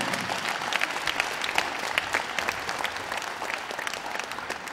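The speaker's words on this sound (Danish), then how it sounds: "jeg synes, vi skal give dem en stor hånd fra publikum" Audience at a boxing event applauding the fighters, a full, continuous round of clapping with crisp individual claps standing out and a light crowd murmur beneath.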